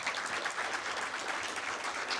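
Steady, dense applause from an audience at an Asian Pacific Islander convocation ceremony, a continuous wash of many hands clapping at even loudness throughout, with no voices standing out.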